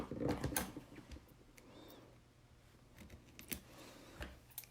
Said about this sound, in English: let's pop this out and snip our stitches